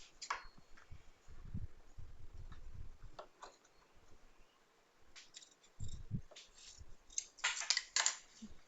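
Scissors snipping nighty fabric during a tailoring alteration, a series of quiet, close clicks and short cuts with pauses in between, faint against a quiet room.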